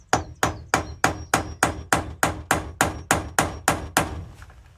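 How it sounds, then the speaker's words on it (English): Steady, evenly spaced hammer blows, about a dozen, drive a screw extractor into a stripped screw, each strike sharp and close with a short ringing decay. "Just gonna hammer this in."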